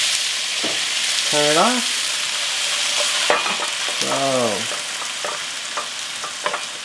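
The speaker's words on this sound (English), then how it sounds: "Give that a nice stir." Zucchini sprinkled with sesame seeds fries on a hibachi-style pan, a loud continuous sizzle with scraping stirs and sharp spatula taps, while voices speak briefly over it.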